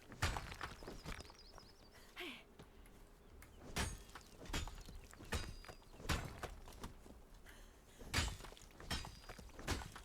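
Horse hooves in the video game Conan Exiles clop at an irregular pace, each step a distinct thud with a faint knock, fairly quiet over a low steady background.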